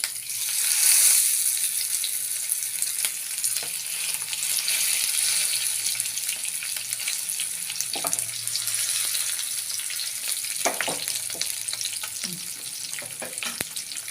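Fish frying in a hot pan with curry leaves, a steady loud sizzle throughout with occasional stirring and scraping clinks over the hiss.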